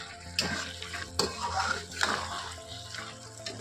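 Grated carrots for gajar halwa, stirred and fried in a pan: repeated scraping strokes of a spoon against the pan over a soft, close sizzle.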